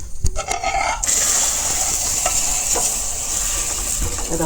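A spoon steadily stirs and scrapes through a milk mixture in a pan for chocolate kulfi made with milk powder, a close, continuous wet swishing with a few clinks at the start and no talking.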